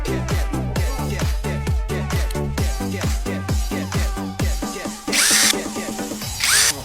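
A Dayou cordless lithium angle grinder with a faulty switch that runs too fast revs in repeated short pulses, each rising and falling in pitch, then gives two bright, loud whining bursts near the end.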